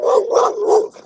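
A dog barks outdoors along a street, three loud close yaps in quick succession, standing alone without talk.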